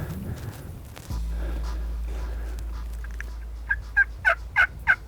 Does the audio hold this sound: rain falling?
no